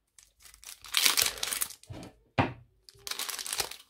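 A Pokémon card booster pack is torn open in short, crisp bursts of crinkling and ripping foil, several close tearing strokes separated by brief pauses.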